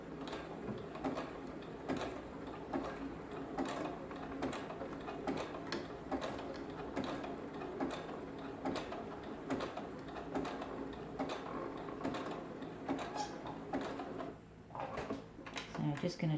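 A sewing machine running at slow speed while stitching knicker elastic, with a steady stream of rapid mechanical ticks and clatter up close, fairly quiet, breaking off briefly near the end.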